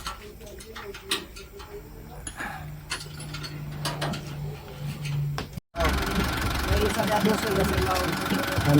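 A car engine runs after repair at an auto shop, giving a steady mechanical idle with rattling and clicking under nearby voices, then a louder, denser stretch of running noise after a brief break.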